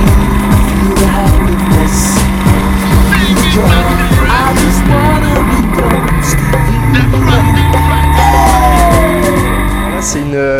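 A Caterham R300 Superlight race car drives with a steady, loud engine drone, rising and falling pitch sweeps as it revs and shifts, and voices shouting over the motor noise.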